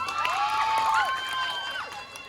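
Students at a high school Independence Day quiz event cheer and shout together in a lively, sustained burst of crowd noise, with whistling tones and raised voices filling the space.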